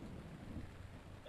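Steady rain with a low thunder rumble in the Breath of the Wild video game, a continuous dull hiss and roll with no talking.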